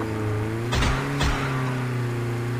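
A loud, steady car engine drone in a video game, its tone holding even while two quick whooshing rushes pass close by, with no voices.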